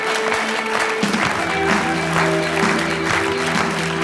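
A studio audience on a sports talk show applauds to welcome a guest singer, a sustained dense clapping that stays loud across the whole stretch, mixed with steady background music tones.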